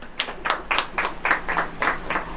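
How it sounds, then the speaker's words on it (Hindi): Congregation at a church service clapping in a quick, irregular burst of separate claps, moderately close against a quiet low hum. "ताली बजाइए।"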